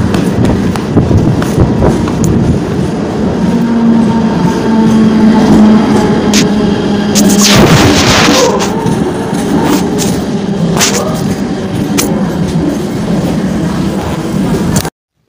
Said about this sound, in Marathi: हे आली लोकल.